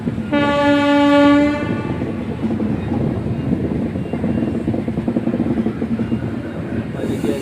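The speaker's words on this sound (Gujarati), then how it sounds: "આપણી ટ્રેનની સ્પીડ પકડી લીધી છે" The 22959 Intercity SF Express runs at speed, with a loud horn blast sounding at the start over a continuous, dense rumble of rolling wheels and wagons that carries on steadily to the end.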